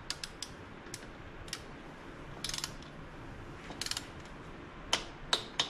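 A 3/8-inch drive ratchet and socket tightens cam chest bolts on a 2018 Harley-Davidson Street Glide, with faint scattered clicks and short bursts of rapid ratcheting, quiet in a still workshop.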